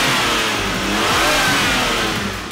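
A 2014 Aston Martin Rapide S engine revs hard and loud, rising and falling in pitch with a throaty roar, close by and continuous.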